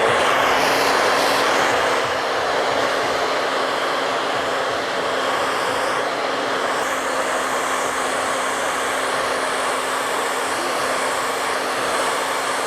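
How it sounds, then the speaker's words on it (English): A hair dryer blows continuously and loudly close by while a big beard is blow-dried at a barber shop, a steady rushing whoosh with a constant motor hum and no talk. "Now it's time for the blow dry."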